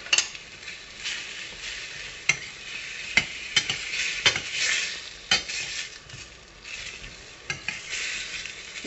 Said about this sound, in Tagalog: lagyan na po natin siya ng oyster sauce. And then, haluin